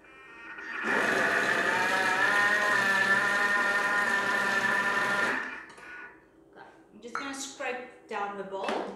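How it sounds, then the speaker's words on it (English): A Thermomix fitted with its butterfly whisk attachment creams cheese for mini cheesecakes, giving a steady loud motor whir for several seconds before stopping, after which a voice talks. "I'm adding my butterfly attachment into the Thermomix"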